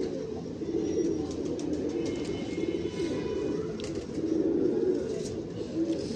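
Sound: golden breeder pigeon cooing

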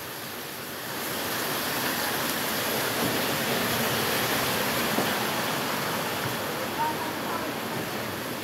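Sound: heavy rain falling

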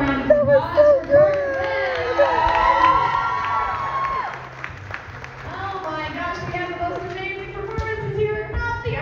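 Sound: audience applause and cheering at a pole showcase

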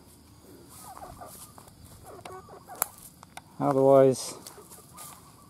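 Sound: chickens clucking

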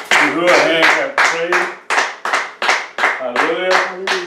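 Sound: congregation clapping hands in praise at church service

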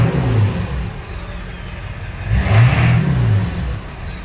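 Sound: Ford F550 7.3L diesel truck engine revving, exhaust note

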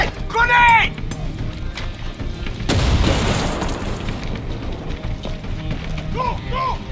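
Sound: grenade explosion in video game Far Cry 6

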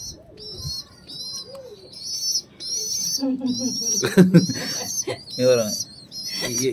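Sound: pet pigeons cooing

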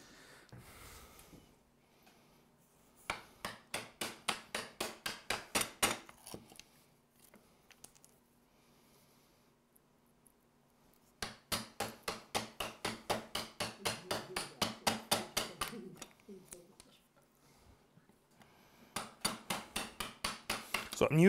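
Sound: chisel chopping out waste wood for a router plane

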